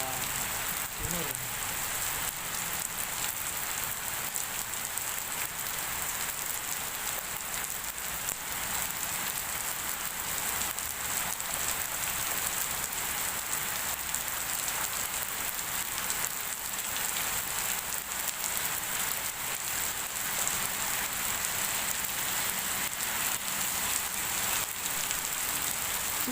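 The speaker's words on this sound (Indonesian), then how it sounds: "Bunyi hujan di atas gunung, airnya turun tidak terkira." Steady rain falls on a mountainside after a long dry season in Bondowoso, a dense, even hiss that carries on without a break for the whole stretch, with no voices heard.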